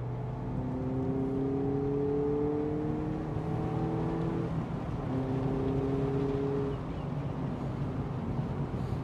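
A Mazda MX-5 convertible drives through a bend, its engine note climbing in rising sweeps and then shifting, steady and close from inside the car with road and wind noise underneath.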